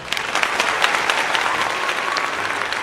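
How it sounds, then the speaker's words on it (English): A studio audience at a lounge-style comedy show applauds, dense steady clapping that fills the whole moment at close range. "you got the applause"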